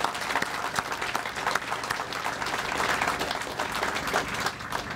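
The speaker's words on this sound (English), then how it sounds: "let's give the mayor a big round of applause" Sustained applause from a crowd honoring the mayor at a Winston-Salem store opening, dense steady clapping filling the whole stretch at an even loudness with no voices over it.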